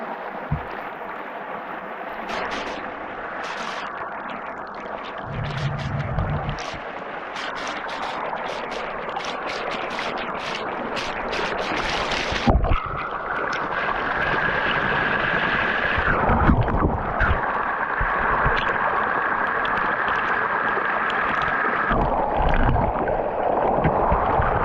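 Clean water rushes into a deep spot like a small waterfall, a steady, loud, close roar with wind buffeting the microphone. Partway through, the sound grows fuller and more gurgling.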